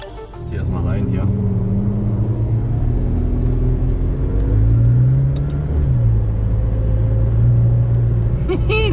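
A McLaren sports car pulls in, its engine a loud, close low rumble with a brief rise in revs midway. Someone talks over it in German.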